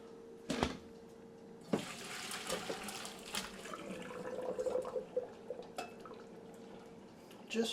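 Water drained off boiled squash, a faint trickle and splash of liquid with a few louder knocks of the pot, close by and quiet throughout.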